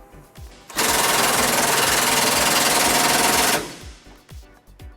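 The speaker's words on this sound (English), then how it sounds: "Now we're going to tighten up both of those bolts to put our bumper back into place." A power impact tool tightens bumper bolts on a 2011 Ford Ranger, giving one loud, close, continuous rattling burst of about three seconds, with quieter clanks before and after.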